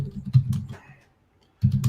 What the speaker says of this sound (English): I'm just typing up some stuff here.